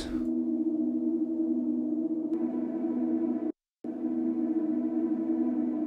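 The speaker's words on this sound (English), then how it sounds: "it's the same kind of drone sound made using exactly the same technique" A deep, steady synth drone hums continuously with a slight shift partway through, broken by one abrupt short gap of silence before resuming at the same level.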